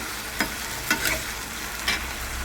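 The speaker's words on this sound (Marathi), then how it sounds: "हे बघा आपले बटाटे मस्तपैकी भाजून होत आहेत" Potatoes roasting in oil for sabudana khichdi, a steady close sizzle broken by a few scraping stirs of the spoon at irregular intervals.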